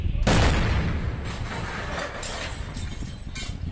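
A sudden loud dynamite blast bursts out during a bank robbery, then a long rumbling decay fades over several seconds.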